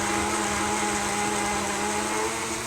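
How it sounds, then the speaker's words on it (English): A small individual blender, jar screwed onto the base and filled with a thick root beer mixture, whirs in a steady, loud, unbroken drone from start to finish with no talking. "So my individual little blender here, I'm able to just screw it on. Please hold while I make some noise here."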